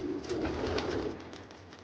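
Racing pigeons in a breeding loft give a soft, low, throaty coo, quiet and close, lasting under two seconds.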